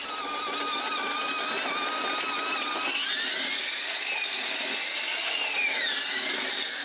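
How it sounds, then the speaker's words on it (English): Miners' rock drills boring holes for explosives deep inside a tunnel, a steady, loud, continuous grinding whine with shifting high-pitched tones that runs without a break. "The miners are constantly drilling new holes for explosives, pushing their tunnel deeper and deeper into the ground."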